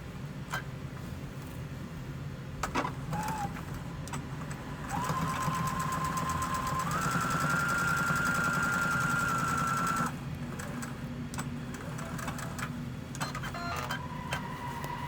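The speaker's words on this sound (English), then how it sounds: "now we're gonna go and sew" A sewing machine stitches trouser front pieces together in a close, steady mechanical whir that starts and stops in short runs, with a higher motor whine holding during the longest burst.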